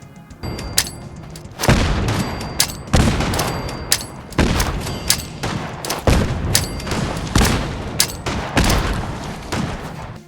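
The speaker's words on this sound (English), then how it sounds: "I just decided to throw a bunch of grenades at it over and over and over and over and over again" Grenades explode again and again in Fallout 4, a rapid series of heavy booming blasts, roughly one every second or so, loud and close with rumbling tails overlapping between bursts.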